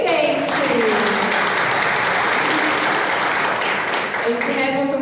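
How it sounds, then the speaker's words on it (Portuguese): A church group applauds catechumens preparing for a sacrament during Holy Week, dense clapping filling the room under a voice talking at the start and end. "Palmas para vocês, gente!"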